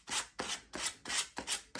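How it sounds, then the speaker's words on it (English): Sandpaper works the edges of a decoupaged ceramic coaster in five steady, rhythmic rasping strokes, close and gritty, with no voice over them. "sand the sides, and you always sand away from the edge"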